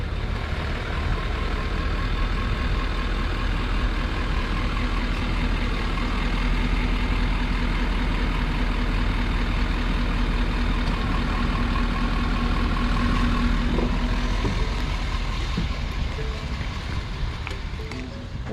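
A truck engine idles and rumbles steadily while the truck is being parked beside a table at an Oregon campsite, a constant low drone that stays close throughout with no pauses.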